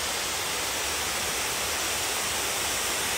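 Cascade Falls waterfall roaring as a steady, loud, broadband rush of falling water, close by and continuous with no voices.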